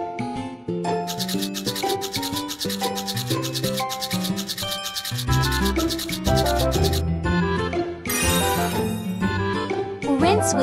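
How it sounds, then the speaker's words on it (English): Cartoon toothbrush scrubbing teeth, a rhythmic rubbing and rasping over a bright, busy musical backing with tinkling chimes, continuous and fairly loud throughout. "Brush the teeth."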